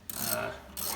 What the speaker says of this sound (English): It's a lot of extra torque, when you're using a socket wrench